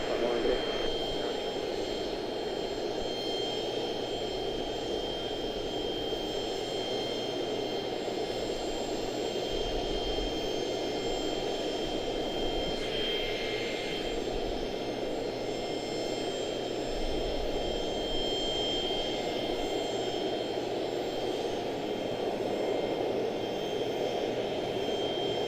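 A Gulfstream business jet takes off at Charlotte-Douglas International Airport, a steady broadband engine roar heard from a distance that holds for the whole stretch, with radio chatter faintly underneath.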